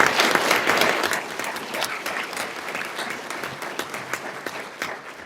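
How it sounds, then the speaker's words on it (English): Applause from an audience at a school committee meeting honoring students, a dense steady clapping that starts loud and gradually thins and fades over about five seconds. "How about a round of applause for our students?"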